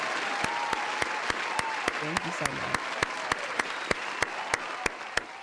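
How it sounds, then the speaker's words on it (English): Studio audience applauding steadily under a talk show host, with sharp periodic claps standing out in a regular rhythm while someone speaks over the ovation. "I want to hear the applause."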